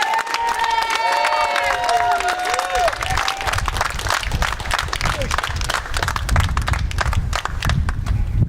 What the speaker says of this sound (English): round of applause first of all for the organisers of the march.